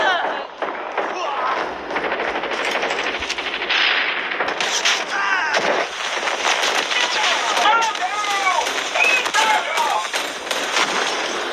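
Rapid bursts of automatic gunfire and single shots ring out in a first-person shooter video game, loud and dense across the whole stretch, mixed with game sounds and a player talking over them.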